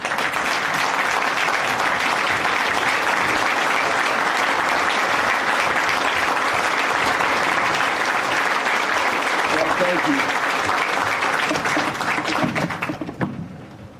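Sustained applause from an audience at an awards event in Watertown, South Dakota, steady and full throughout before cutting off sharply near the end.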